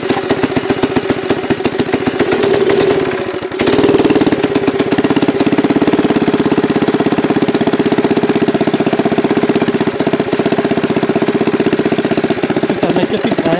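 A Bernard engine sputters into life after a brief cranking burst, then settles into a loud, steady running chug with a continuous mid-range rumble and regular firing pulses, heard close up and alone.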